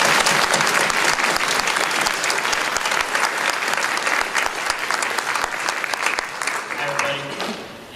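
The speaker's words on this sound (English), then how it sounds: "Everybody give a round of applause for Jeff Lander." An audience at an Equestria LA 2013 convention panel breaks into sustained, dense applause that stays loud and steady for several seconds before tapering slightly at the end.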